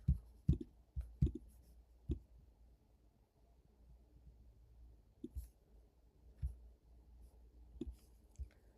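Computer keyboard keys are tapped in short, separate clicks, a quick cluster at the start and a few more spaced out later, close and fairly quiet with no talk.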